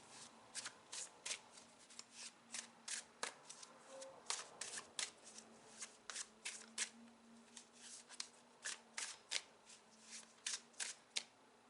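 Tarot cards shuffled and handled during a reading, a quiet close series of crisp riffling flicks and slaps in uneven bursts, with soft background sounds between them.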